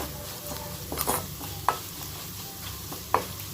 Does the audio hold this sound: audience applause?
no